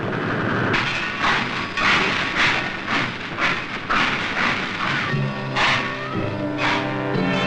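A freight train rumbles past with rhythmic clattering and heavy bursts of noise, loud and continuous, with no voices.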